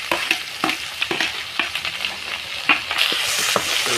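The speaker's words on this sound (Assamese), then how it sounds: "পিঁয়াজটো লাহে লাহে ভাজি আছোঁ।" Onion frying in a pan over a wood fire, continuous close sizzle broken by repeated scraping stirs at an irregular rhythm, with no talk.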